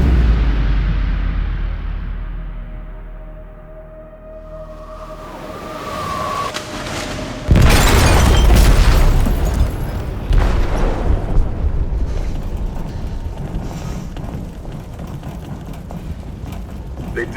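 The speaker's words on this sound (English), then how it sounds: "They detonated an explosive in the hold." An explosive detonates in a ship's hold in Detroit: Become Human: after a low, building rumble, a sudden loud boom hits and rolls into a long, thundering decay of crashing debris and reverberation.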